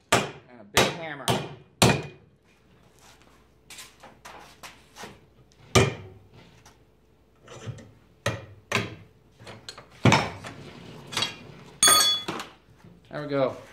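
A big hammer pounds a piece of 3/8-inch steel plate clamped in a vise, bending it by hand. Roughly a dozen sharp, ringing metallic blows land close by in irregular bursts, with pauses between groups.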